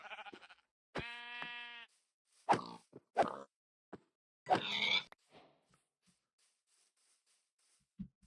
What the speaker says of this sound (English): Let's go kill the pigs.